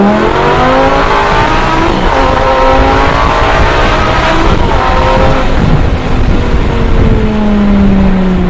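A Lamborghini Gallardo engine revs up hard as it accelerates in first gear from 40 mph, the pitch climbing steadily in one long continuous pull, loud and close throughout.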